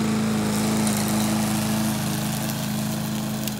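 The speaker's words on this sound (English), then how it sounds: "We could be mowing the lawn." A lawn mower engine runs steadily and loudly throughout, with a constant droning hum and no talking.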